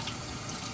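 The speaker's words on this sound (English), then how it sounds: "I say as I rinse my roots with tap water." Tap water runs over houseplant roots as they are rinsed indoors, a close, continuous stream of splashing water with no voices.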